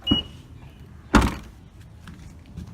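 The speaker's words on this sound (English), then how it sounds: "I also can unlock the boot," Two solid thunks from a Honda HR-V E's rear boot latch as it is unlocked and opened: a small click, then a louder clunk about a second later, with quiet surroundings.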